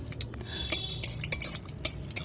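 Dried red chillies and whole cumin fry in mustard oil in a wok, with a spatula stirring and clinking in quick, uneven taps over a low background hiss.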